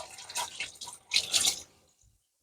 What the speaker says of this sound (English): Let's put this in my sink and wash my hands.